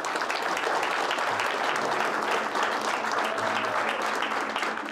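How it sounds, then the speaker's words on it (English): An audience at a UFC Fight Night event in Tampa breaks into sustained, steady applause. The dense clapping stays loud and even throughout, with no voices rising above it. "let's clap it up."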